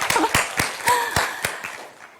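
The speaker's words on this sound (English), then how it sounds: "give a round of applause to yourself because you all are awesome" A handful of separate claps ring out with gaps between them, loud and close at first, then thinning and fading toward the end, as a conference audience briefly applauds.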